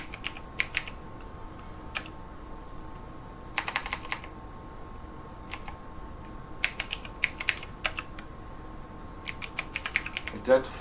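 Computer keyboard keys tapped in quick bursts while a name is entered during ISBoxer software setup, crisp close clicks separated by short pauses over a faint steady hum.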